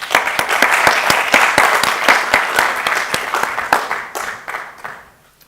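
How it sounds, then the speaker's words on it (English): A conference audience applauds the organizers at a closing session, a dense run of claps that holds steady and then thins and fades out at the end. "I hope you can join me for a moment to applaud them for their effort."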